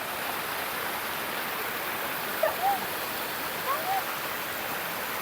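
A river and waterfall at Malicboy Falls in Pagbilao, Quezon rush in a steady broadband roar, close and constant, with a few brief faint chirps or voices rising above the flowing water.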